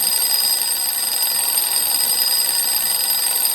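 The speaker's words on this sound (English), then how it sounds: "what's that alarm?" An alarm rings continuously in the video game DayZ, loud, steady and shrill like an electronic alarm clock or phone bell, with no talk over it.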